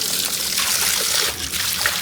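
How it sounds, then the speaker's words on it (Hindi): Water trickling and splashing as it flows out of a small, full water tank, a steady close-up dribble and spatter that runs continuously. "ये देखो पानी पूरा निकल जाता है।"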